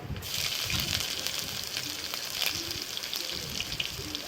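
Garam masala and whole cumin seeds frying in oil already used for frying potatoes and paneer, a steady close sizzle with crackling pops and faint scraping, no talk over it.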